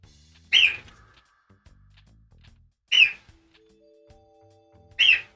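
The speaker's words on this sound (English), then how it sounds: "And Brim's birds are awake." Early-morning birds give three clear, bright whistled chirps spaced a couple of seconds apart, standing alone against near silence with faint low tones between calls.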